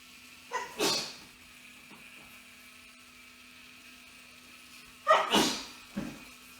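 Two sharp sneezes from a person in a quiet bee queen-rearing room, each a sudden loud burst, the second followed by a smaller echoing catch.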